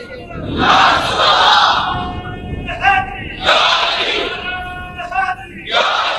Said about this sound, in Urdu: آج تو دن ہے نا نعرے لگانے کا